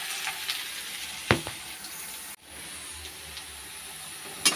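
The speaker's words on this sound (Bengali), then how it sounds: "পেঁয়াজ আর শুকনো লঙ্কা দিয়ে তেলের মধ্যে একটু ভেজে নিচ্ছি" Onion and dried red chilli sizzle in hot oil in a home kitchen, a steady close hiss broken by a few sharp spatters and pops, with no talking.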